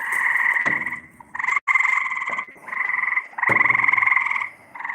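Frogs croak loudly and close by in a dense chorus of sustained buzzing calls with brief pauses, plus a couple of rustling footstep thumps.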